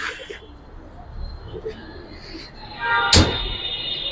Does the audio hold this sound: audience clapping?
no